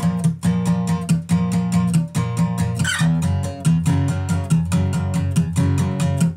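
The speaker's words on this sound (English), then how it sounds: "the strumming pattern that he's doing is gonna kind of sound something like this" Acoustic guitar strummed in a fast, all-downstroke pattern, with steady rhythmic chord hits played alone, loud and close for several seconds.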